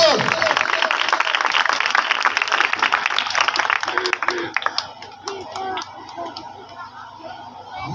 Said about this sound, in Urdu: زوردار تالیوں کے ساتھ خدا کے بندہ کا استقبال کرتے ہیں